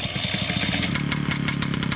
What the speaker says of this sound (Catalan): Per jo és el renou tan peculiar del motor.